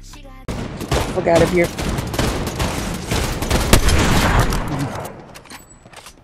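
Rapid bursts of automatic gunfire and shots from a Fortnite match fill the scene loudly and densely for several seconds, with a player's voice cursing over the shooting.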